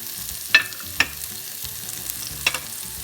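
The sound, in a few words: onions frying with masala in a pan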